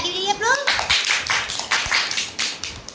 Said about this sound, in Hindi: बहुत अच्छा किया, ताली बजाइए आप लोग